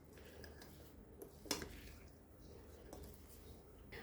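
Tabbouleh salad being tossed with olive oil in a bowl, giving soft, faint wet squishing and a few light clinks of a utensil against the dish, quiet and close.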